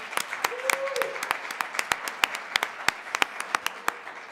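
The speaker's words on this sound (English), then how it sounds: "All right, so just one more round of applause for our amazing presenters." Applause greets presenters at a cat-themed talk event: a scattered audience claps in sharp, distinct individual beats over a soft background, with a brief tonal hum partway through.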